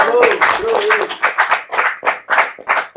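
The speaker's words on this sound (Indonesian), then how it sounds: "Sekali lagi Mas Iwan, tepuk tangan dong" A small crowd at an event claps in distinct, loose bursts, close and fairly loud, with a voice talking over the start before the claps become separate and uneven.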